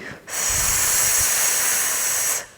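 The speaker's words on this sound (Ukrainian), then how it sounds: "і видихаю прямо от сюди." A long, forceful exhale through the nose and mouth during a posture stretching exercise, a close, steady breathy hiss lasting about two seconds, starting abruptly and fading at the end, with no talk.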